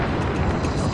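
A deep, loud rumble of thunder rolls continuously for a moment in a mountain range in the Caribbean, heavy and broadband, with no voices.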